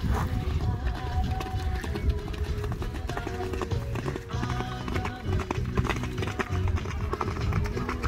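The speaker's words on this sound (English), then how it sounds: "them horses running" Horses running on a beach, with a steady clatter of hooves that rolls on continuously amid wind and general outdoor noise, fairly close and loud.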